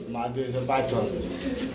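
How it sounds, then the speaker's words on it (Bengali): A racing pigeon cooing close by, low throaty coos repeating over about two seconds, mixed with people talking. "রেসার কবুতর।"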